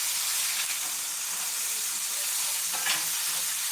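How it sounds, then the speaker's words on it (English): Mushrooms fry in a pan with a steady, bright sizzle and hiss, stirred with faint scraping moments, close and continuous throughout. "Let me stir these mushrooms."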